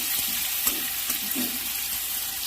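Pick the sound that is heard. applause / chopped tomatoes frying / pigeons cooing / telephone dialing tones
chopped tomatoes frying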